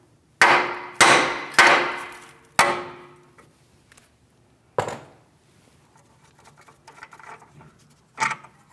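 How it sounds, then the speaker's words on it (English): Four quick metallic hammer taps on a tie rod end of a 2015-2016 Chevrolet Malibu, then a pause, another tap, some faint clinks, and a final tap, close and sharp. "A couple light taps with a hammer here."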